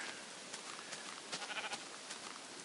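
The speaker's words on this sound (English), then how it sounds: "And we're going to strip this sheep naked." Sheep in the Minecraft video game bleat in a few short, faint calls over a soft, steady hiss, spaced irregularly across a few seconds.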